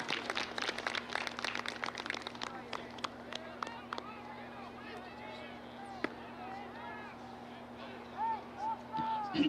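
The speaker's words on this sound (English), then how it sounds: "Let's give a round of applause to Max" Scattered, fairly distant clapping from spectators at a high school baseball senior night, Spain Park Jaguars versus Briarwood Lions, sharp at first and then thinning out, with a steady hum and faint voices beneath.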